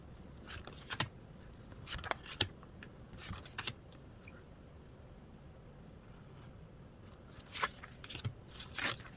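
Tarot cards are handled and shuffled quietly near the microphone, with faint scattered papery slaps and flicks in small clusters over a low hiss, no voices.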